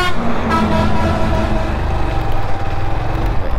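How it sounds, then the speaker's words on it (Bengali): Car or truck passing on a road nearby, a loud engine rumble that swells and fades, with a short horn toot. "গাড়ি আসে, গাড়ি"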